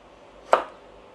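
Knife slicing through herb stems on a cutting board while making Thai fried rice with pork: a single crisp, close chop stands out against a quiet background.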